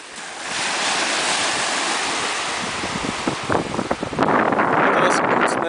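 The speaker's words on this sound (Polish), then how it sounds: "Tu jest ocean." Ocean surf rolls onto the beach at Monte Gordo, Portugal, a steady broad wash of water roughed up by gusty wind buffeting the microphone, growing rougher and louder toward the end.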